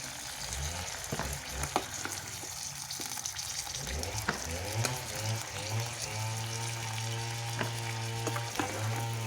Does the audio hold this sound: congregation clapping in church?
no